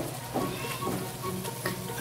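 Adobong kangkong (water spinach cooked in vinegar) being stirred as it fries in a pan, a steady close sizzle with scraping stir sounds pulsing through it, no talking.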